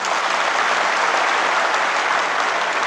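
Women in a lecture audience clapping together, a dense, loud, continuous burst of applause with no talk over it.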